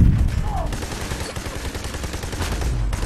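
Gunfire in the video game Army of Two: The Devil's Cartel, a steady rattle of shots running through the whole stretch under a dense, noisy game mix.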